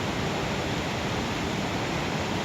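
Spring water flowing out from between stones at Salkhala, a steady dense rush of running water, close and continuous throughout without any talk over it.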